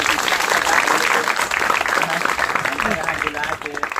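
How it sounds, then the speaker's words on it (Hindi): Loud, dense applause from the audience at a school alumni meet, a continuous wash of many hands clapping close by, with voices and a little crowd noise mixed underneath. "और सर मैम के लिए एक बार जोरदार ताली बजा दीजिए"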